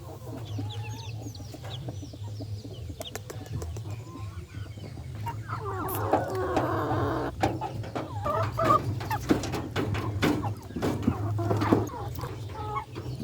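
Backyard chickens clucking as they peck at melon, a busy flock of close murmuring clucks and sharp pecking taps that grows livelier midway, over a low constant hum.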